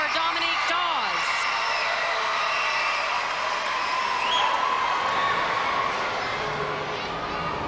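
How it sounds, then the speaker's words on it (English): Arena crowd at a 1998 professional gymnastics championship, a dense sustained roar of voices chanting together, with a commentator talking over it. "You can hear the crowd chanting for a 10"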